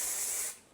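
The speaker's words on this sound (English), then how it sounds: "And then I'll take a little bit of hairspray." A short hiss of hairspray sprayed onto synthetic hair, one close burst that cuts off and fades quickly.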